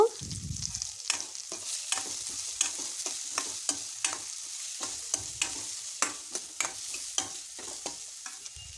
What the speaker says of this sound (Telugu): ఇది కాస్త ఫ్రై అయ్యాక ఆనియన్ ముక్కలు,